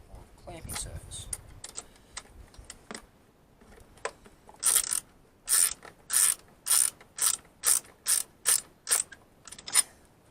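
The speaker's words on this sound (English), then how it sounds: "That's a nylon nut, so it's not going to be easy to take down, but take it down a little bit further if I can" A ratchet clicks in a fast run of sharp, close ratcheting strokes as it tightens a nylon nut on a custom battery bracket, following some lighter handling noise.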